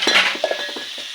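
Ingredients for Chhattisgarhi aloo bhunjia are dropped into a kadhai, giving a short clatter of metal clinks and a soft sizzle, close and fairly loud.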